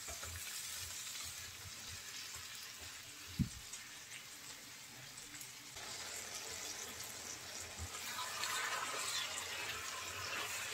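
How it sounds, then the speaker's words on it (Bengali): Sliced ridge gourd (dhundul) fries in a pan as its released water cooks off, giving a steady, loud hiss and sizzle throughout, with a brief sharp clack near the start and no talking. "এই পানি সম্পূর্ণ টানিয়ে ভাজা ভাজা করে নেব।"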